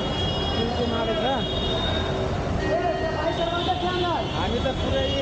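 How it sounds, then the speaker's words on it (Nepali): A train crosses an overhead rail line near Varanasi with a loud, continuous rumble, and high wheel squeals rise and fall throughout the short pass. "हामी त पुरै माथिबाट रेल पुग्छ"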